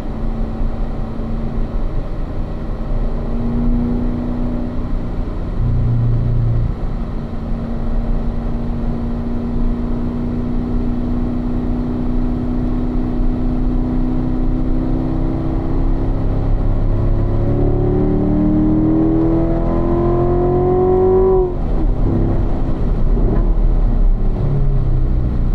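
A car on a race track holds a steady engine drone, then its pitch climbs as it accelerates, followed by a drop-off and a shift near the end, loud and continuous from inside the cabin.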